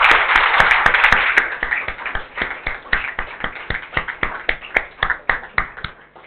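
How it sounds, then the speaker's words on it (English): Patron members of an audience give a welcoming round of applause, dense at first and then thinning into a handful of distinct, close claps that slow and fade out. "Let me welcome all of you with a big round of applause from you"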